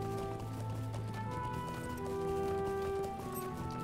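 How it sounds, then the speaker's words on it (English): Steady rhythmic clip-clop of horse hooves at a quick pace in the game The Lord of the Rings Online, running continuously over a droning musical background. "we're on an all-terrain horse, so it's fine."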